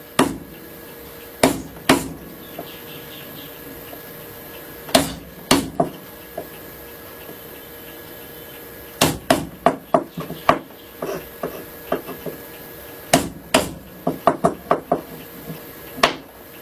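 A small chisel is struck to cut out a square mortise while making a wooden edge plane, giving sharp, close mallet knocks, single at first, then rapid clustered strikes with pauses between groups.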